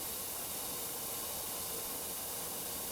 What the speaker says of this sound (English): it's got a 40 degree spray